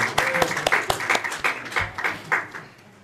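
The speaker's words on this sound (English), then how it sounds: "Can we give her a round of applause for a miracle?" Scattered clapping from a small audience at a team presentation, uneven individual claps in loose bursts that thin out and fade near the end.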